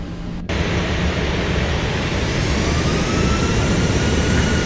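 Jet airliner engine in a flight simulator game spooling up under added throttle, a steady broadband roar that starts abruptly after a brief pause and slowly swells louder, with no talking.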